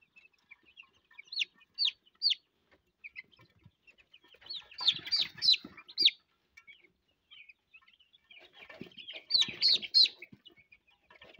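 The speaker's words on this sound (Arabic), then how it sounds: "الرومي ده انا مهجناه رومي بلدي مع تركي" Turkeys from a cross of local and Turkish birds gobbling and clucking, bursts of sharp calls in three clusters separated by quieter pauses, fairly close, with faint scattered peeps between.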